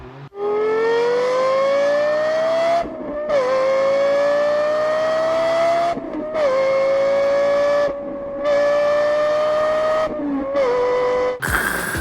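Lexus LFA 4.8L naturally aspirated V10 exhaust, a loud high-pitched wail that climbs repeatedly through several gears with short breaks at each shift, heard alone without talking.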